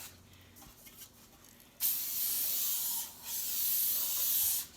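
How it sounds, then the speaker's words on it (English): Canola oil cooking spray hisses out of a can in two close, steady bursts with a brief pause between them as the edges of a bowl are greased for bread dough, following a quiet stretch. "and I'm just going to spray the edges."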